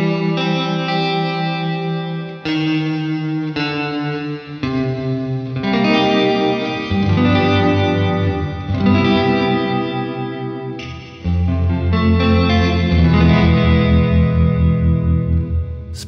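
An electric guitar plays through an Old Blood Noise Endeavours Minim reverb pedal with harmonic tremolo modulation, strummed chords washing into a shimmering, pulsing wet tail; loud and close, with several phrases separated by brief pauses, no talking.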